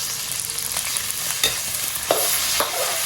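Dried chilies, star anise and garlic stir-fried in hot oil with a spoonful of chili bean paste, a steady loud sizzle with spatula scrapes and a few sharper pops, no voices.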